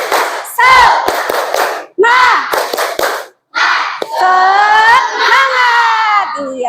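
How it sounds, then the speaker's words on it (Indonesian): A classroom of children does an Indonesian spirit clap at a teacher's request, with bursts of rhythmic clapping and loud shouted chanting voices in several phrases separated by short gaps. "Ibu mau denger tepuk semangat kalian"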